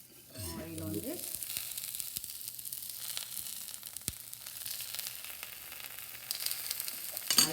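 Sprouted chickpeas frying in hot oil, a steady close sizzle that rises sharply after a short quiet start and holds evenly, with a few faint clicks on top.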